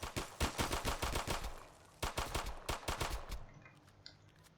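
Gunfire in the Roblox game RoStreets: loud, rapid bursts of automatic shots in two runs with a short pause between, then fading into scattered quieter pops and echoes, with no speech.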